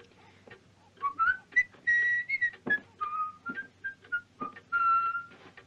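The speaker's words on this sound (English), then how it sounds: "Why, you whistling, kid." Someone whistles a wandering, melodic tune in short phrases, close and clear, with small pauses between notes.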